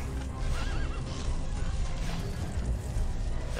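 A horse neighs and whinnies in the fantasy game Artifact Seeker: Resurrection, a loud, wavering call over busy game ambience with hoof clip-clops and a continuous rumble.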